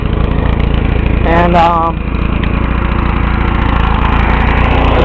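A small flathead engine on a cheap Chinese pressure cleaner runs steadily at a loud, even chug close by, with a brief tonal squeal near the start and someone talking over it.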